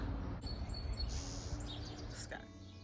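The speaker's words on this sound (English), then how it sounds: "little birds are chirping" Faint high chirps from small birds come and go over a steady low hum, with no talking.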